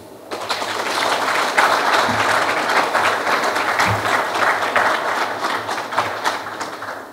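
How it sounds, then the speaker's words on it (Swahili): Applause fills the hall at a Simba SC sponsorship announcement, a loud, sustained clapping from a crowd that holds steady throughout without letting up. "Makofi machache."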